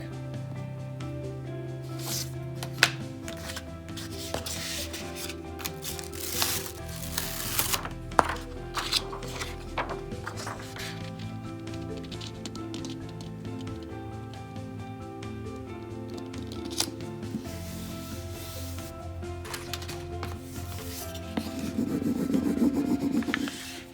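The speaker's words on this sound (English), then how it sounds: "we're going to peel off the back and then add the transfer on with our transfer stick" Dry rasping and rubbing of a transfer stick pressing a transfer onto a stretched canvas, a steady scratchy friction with scattered taps and handling noises over about twenty seconds, no talk.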